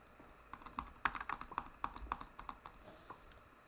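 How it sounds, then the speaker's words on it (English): Computer keyboard typing during a Minecraft BedWars session: a quick, uneven run of crisp key clicks and taps, fairly close and clear with no talking. "You guys like the sound of my keyboard?"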